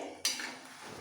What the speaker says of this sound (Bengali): তারপর খুন্তি দিয়ে ওলট পালট করে ভেজে নেব